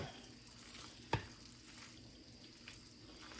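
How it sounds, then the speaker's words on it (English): Pasta sauce with tomatoes stirred in a pan, a soft steady sizzle with faint scraping strokes and one sharp clink of the utensil, quiet and close. "So just stir it up."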